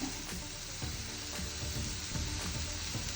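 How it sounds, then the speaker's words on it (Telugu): Onions frying in a pan until golden brown, a steady close sizzle with faint stirring scrapes, continuous and fairly quiet with no talk. "ఇవి ఎంతవరకు వేగాలంటే కొద్దిగా పచ్చివాసన పోయి కలర్ చేంజ్ అయ్యి గోల్డెన్ బ్రౌన్ కలర్ వస్తాయి కదా"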